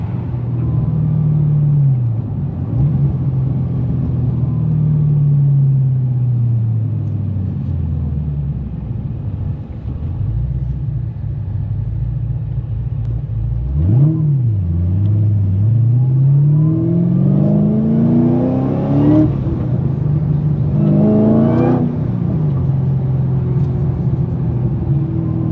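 Car engine with a supercharger whine on a drive past a Corvette, a loud steady rumble with rising and falling whine as the engine revs, sweeping up sharply twice near the end.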